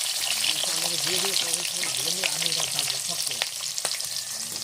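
Potato pieces sizzle and spatter in hot oil left over from frying fish, a continuous crackling fry with occasional stirring sounds, while a voice speaks over the cooking.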